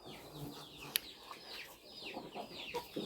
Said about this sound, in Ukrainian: курчата верещать